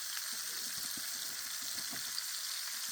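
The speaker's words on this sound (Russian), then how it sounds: "Сделали на сковородке" Freshly caught fish frying in a skillet outdoors, giving a steady, even sizzle with small crackles and pops throughout, close and fairly faint, with no voices.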